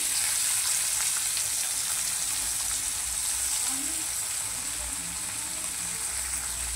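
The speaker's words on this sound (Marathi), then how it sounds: "शिमला मिरची चांगली आपण टोस्ट करून घेऊया" Bell peppers toasting in a thin kadai over high flame for an Indo-Chinese dish, giving a steady, close, loud sizzle with a bright hiss throughout and no speech.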